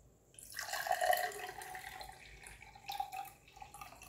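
Waterdrop drink poured from a container into a clear glass, a soft, close trickling and splashing stream that swells, eases, then surges briefly again, quiet with no talking.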